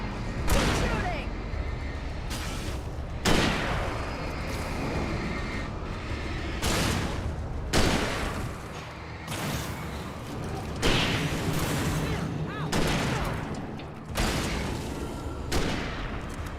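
Gunshots in Alan Wake Remastered ring out as heavy, booming shots roughly every one to two seconds, loud and close, over a dense, noisy game soundscape.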